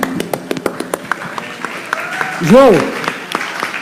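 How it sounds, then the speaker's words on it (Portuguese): A small crowd applauds a band at a live Brazilian music show, with scattered handclaps spaced across the stretch. A voice speaks partway through. "Aplausos, galera."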